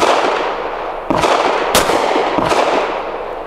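A Canik METE MC9 9mm pistol fired outdoors, with a few sharp loud reports spaced about a second apart over steady background noise.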